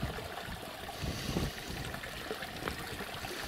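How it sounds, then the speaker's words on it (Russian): A shallow stream runs over a stony bed, a steady close babble of flowing water with light trickling detail and no talk. "Вода течет. Видно, что вода течет."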